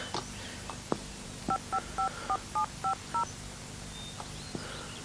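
A telephone keypad dials a number: several single tones, then a quick run of seven evenly spaced, clear touch-tone beeps, followed by a couple of faint clicks, with no speech.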